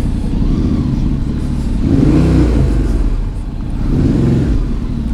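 Yamaha Ténéré motorcycle engine running close by, a steady rumbling idle that swells into two revs while the rider manoeuvres the bike.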